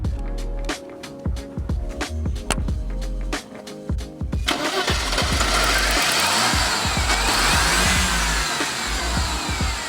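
A Mercedes S-Class W126 with the M103 inline-six engine, heard as a string of sharp mechanical clicks and knocks before the engine catches and settles into a steady, loud running drone that holds to the end.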